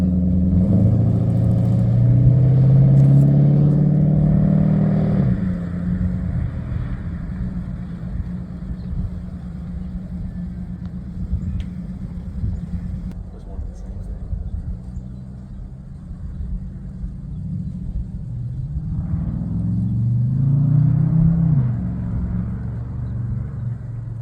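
A heavy V8 engine in an LS-swapped Chevrolet C10 pickup truck rumbles loudly as it pulls away, then settles to a low idle-like drone before revving up again near the end.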